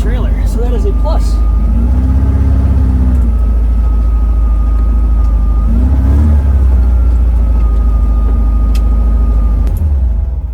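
A Bradley GT2 kit car's engine runs loudly and close, a steady droning idle with a few brief revs, while people talk nearby.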